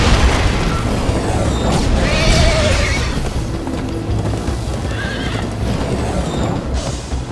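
Horse hooves pounding at a gallop with a loud whinny, amid a rumbling, busy Minecraft: Story Mode soundscape with occasional booms.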